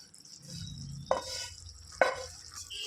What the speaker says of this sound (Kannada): ರೋಸ್ಟ್ ಮಾಡ್ಕೊಂಡಿರೋ ಎಲ್ಲ ಕೊಬ್ಬರಿನ ಹಾಕ್ಕೊಂಡು ಚೆನ್ನಾಗಿ ಮಿಕ್ಸ್ ಮಾಡ್ಕೊಂಡು ಬಿಡಬೇಕು